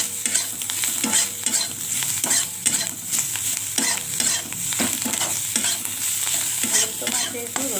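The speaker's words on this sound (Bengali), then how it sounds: "ভালোভাবে কষিয়ে নিতে হবে।" Spices and fish sauté in a hot pan with cumin powder and coriander leaves, giving a steady close sizzle and frying hiss under repeated scraping and stirring strokes, with no voices.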